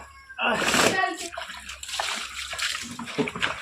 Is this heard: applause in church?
no